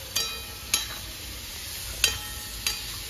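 Tomatoes go into a frying pan with cumin, coriander and red chili powder for a yogurt chicken and potato curry, giving a faint steady sizzle punctuated by four sharp spatula clinks against the pan.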